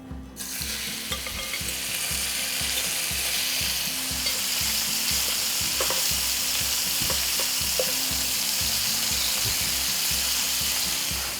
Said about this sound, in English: In the same pan, I'm going to be frying my chicken.